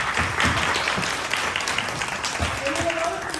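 Audience applause for a graduate at a ceremony, a steady wash of many hands clapping that runs the whole moment, with some voices mixed in.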